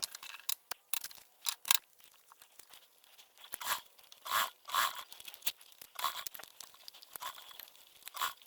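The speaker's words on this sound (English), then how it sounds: "There's a little bit of loose thread there. Let me get that cut off." Quick, faint scissor snips trim a loose thread from the binding of a sewn hanging toiletry bag, several short crisp cuts spaced irregularly in a quiet room.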